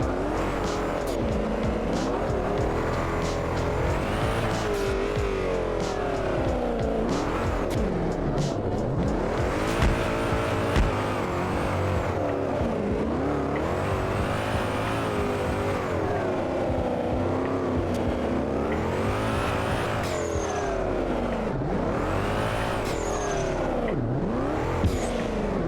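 A drift car, the Tofu delivery car in the racing game Drift 21, laps Ebisu's touge course with a continuous loud engine roar, constant revving and shifting pitch, and repeated tire squeal through slides, steady throughout with no talk.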